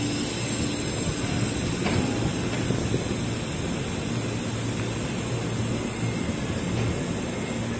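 A KRL commuter train arriving at Manggarai station rumbles steadily nearby with a broad, constant roar and faint clattering, no voices, sustained throughout.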